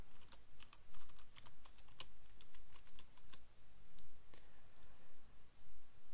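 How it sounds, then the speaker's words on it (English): Typing on a computer keyboard, a quick close run of light key clicks with brief pauses and no voices. "So type in our subdomain,"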